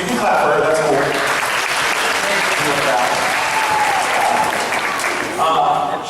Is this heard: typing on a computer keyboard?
no